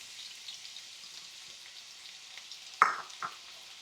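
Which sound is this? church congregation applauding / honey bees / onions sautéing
onions sautéing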